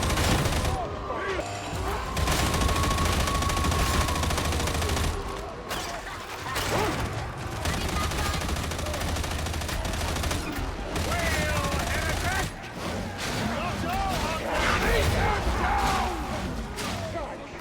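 An auto-gun fires in sustained full-auto bursts in the video game Warhammer 40K Darktide, shredding through hordes with dense, loud, rattling gunfire and mechanical clatter that run almost continuously, with a brief pause.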